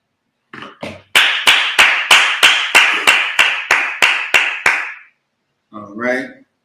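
A congregation claps at a Sabbath service: a few scattered claps, then about a dozen loud, evenly spaced claps in a steady rhythm, followed by a brief spoken voice.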